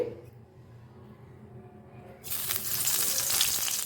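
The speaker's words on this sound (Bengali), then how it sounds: "এইবার তেলেতে দেব অল্প জিরে" Cumin seeds go into hot oil left over from frying potatoes in a Bengali kitchen, and a bright crackling sizzle bursts up partway through, rising from quiet kitchen noise to a loud, close frying hiss.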